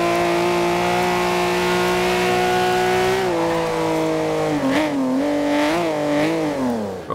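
A Ferrari engine in the racing game Forza Horizon 2: a smooth, loud sustained drone that holds steady, then climbs and dips through several revs and shifts, with no talking over it.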